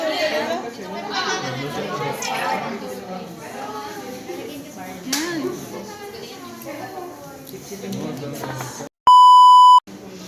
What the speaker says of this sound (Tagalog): Timer starts now.